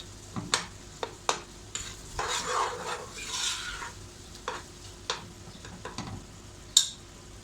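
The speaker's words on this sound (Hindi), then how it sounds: "अब आलू डालूंगी मैं इस स्टेज पे आके।" Potatoes dropped into frying tomatoes and stirred, quiet sizzling under a series of sharp spatula taps and scrapes against the pan, close and with no one speaking.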